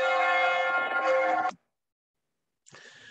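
Church bell cast by Blews, struck once with a rich, ringing metallic tone that sustains before cutting off abruptly, then a brief quieter burst of ringing after a short silence.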